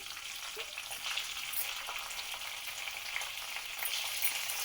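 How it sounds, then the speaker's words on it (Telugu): Green chillies fry in a thick, heavy pan and are stirred now and then. A steady, soft sizzle runs throughout, quiet and unbroken, with no voices. "లైట్గా వేగేదాకా తిప్పుకోవాలి"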